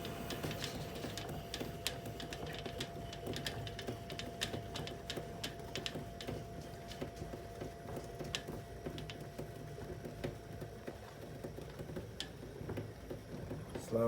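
Magnetic wheels spin steadily, giving a continuous mechanical whir with rapid ticking and clicking that holds at a moderate level throughout, with no voices.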